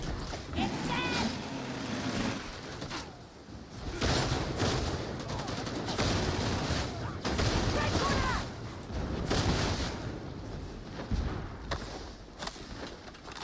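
Dense, sustained gunfire rattles through a Warhammer 40K: Darktide battle, bursts overlapping in near-continuous volleys, with a player's voice calling out under the shooting.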